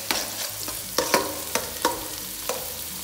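Dry bay leaves and dried lemon drop into hot oil, giving a light steady sizzle broken by several sharp stirring clinks and scrapes at uneven intervals.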